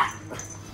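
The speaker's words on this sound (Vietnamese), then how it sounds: "Sủa." A dog gives a single short, sharp yip-like bark on command during basic obedience training, loud at first and fading quickly, with no talk over it.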